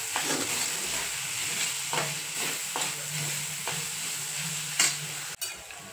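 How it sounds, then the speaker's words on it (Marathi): Sautéed moong dal with garam masala stirred in a pan on the stove, a continuous frying sizzle broken by repeated scraping spoon strokes and a sharp knock near the end, close and without talk. "त्यातच आपण टाकून घ्यायचा गरम मसाला आणि मिक्स करून घ्यायचा"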